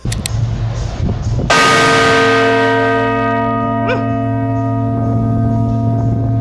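Church bells ring out on a Sunday morning in an African country, a loud struck peal that blooms into long sustained overlapping tones and hums, preceded by a brief, fainter bell strike.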